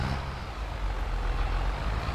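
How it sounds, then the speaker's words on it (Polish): A passing road vehicle by a sawmill-bound drive, low steady engine rumble and road roar filling the whole stretch at close range, with no talk over it. "Dobrze, puścimy ten samochód jeszcze."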